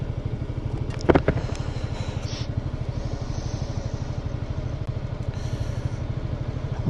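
A motorcycle engine idles steadily in a traffic queue, a low continuous rumble with a brief clatter early on and faint traffic around it.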